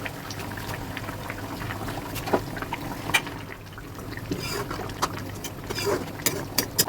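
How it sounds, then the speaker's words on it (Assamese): A pot of fish curry with dudh kochu (taro) bubbling on the stove, a continuous wet simmer with scattered pops and clinks, heard up close. "তৰকাৰী উতলি আছে"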